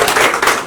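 Clapping from a seated audience at a Bihar film event honouring a guest, brief and fairly loud, a dense patter of hands with no voices over it.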